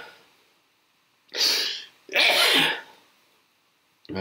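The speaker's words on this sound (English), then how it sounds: "Oh, I have a sneeze going on." A person sneezes twice in quick succession, a short burst near 1.4 seconds then a longer, louder one, both close and alone in a quiet room, with a faint breath at the end.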